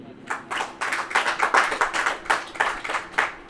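A church congregation claps hands in a fairly regular rhythm of distinct, sharp claps, close and moderately loud, at a Hindi worship service.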